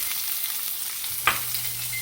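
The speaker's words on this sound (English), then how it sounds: "I'm going to add my asparagus to this pot and start cooking." Asparagus going into a risotto pot gives a soft, steady sizzle with one brief clink partway through, quiet and close with no talking.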